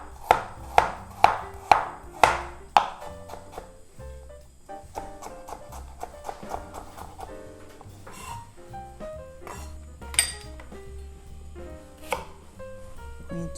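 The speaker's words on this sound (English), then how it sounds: "I'm gonna start from chopping the garlic and ginger" Garlic and ginger are chopped with a knife on a cutting board, starting with several sharp evenly spaced chops, then quicker lighter taps and a few scattered cuts, close and alone over a soft background.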